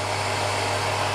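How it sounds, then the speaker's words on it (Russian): A home water pump running after a soft start: a continuous steady electric motor hum with a low tonal drone, constant and fairly loud throughout. "Все, насос у нас пошел накачивать."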